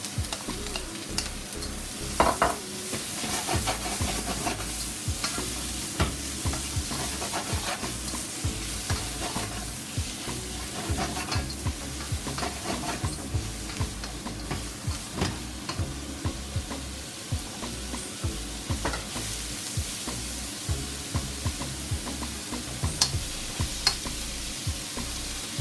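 Vegetables for a jerk beef lasagne frying in a pan, with a continuous close sizzle and frequent scraping, clacking stirs of a utensil against the pan throughout. The sound is long and even, with no talking.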